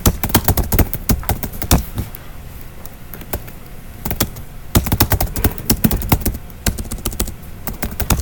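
Keys clatter on a computer keyboard as terminal commands are typed, close and crisp in quick irregular bursts with short pauses between them, no one talking.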